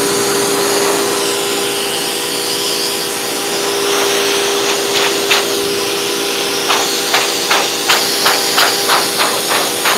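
A force dryer blasts a golden retriever's coat during grooming with a loud, steady roaring hiss that carries throughout, broken in the second half by sharp rhythmic clicks and knocks.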